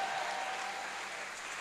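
A church congregation applauding, a dense continuous wash of clapping from many hands filling the space, steady and fairly loud with no talk over it.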